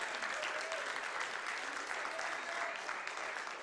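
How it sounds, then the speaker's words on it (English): Steady applause from a live speedrunning charity marathon crowd, dense clapping continuing evenly throughout at moderate volume. "Yeah, applaud that"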